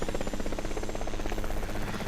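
Helicopter rotor and turbine in Microsoft Flight Simulator X, a steady rhythmic chop over an engine hum as the chopper sits on its skids on the ground, loud and continuous throughout.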